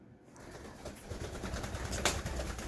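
A pet pigeon coos softly and low in a quiet room, with faint rustling and fluttering around it.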